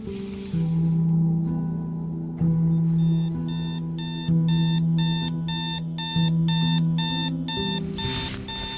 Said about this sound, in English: Saturday arrives, and I snooze my alarm 5 times